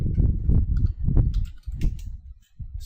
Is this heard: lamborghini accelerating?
no